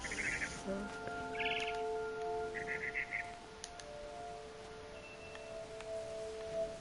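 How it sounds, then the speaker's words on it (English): A barn swallow chirps outside a window in the video game What Remains of Edith Finch. Several short, fairly faint chirps and tweets sound over quiet ambience, with soft tonal hums beneath. "Then I heard chirping outside my window."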